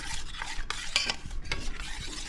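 A spoon stirring kadhi mixture with salt and cumin in a pot, quick scraping and swishing strokes close by at a steady pace, no voices.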